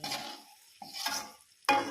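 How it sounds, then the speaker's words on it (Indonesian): Eggs are turned slowly through spicy chili balado sauce in a pan, producing a few soft scraping stirs and light sizzles, close and quiet, with a sharper utensil scrape at the end. "Kita masukkan telurnya. Kita ucek-ucek pelan-pelan."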